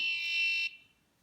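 A homemade Arduino guitar tuner's electronic buzzer sounds a steady high E tone for about two thirds of a second, close and clear, then cuts off abruptly into near silence.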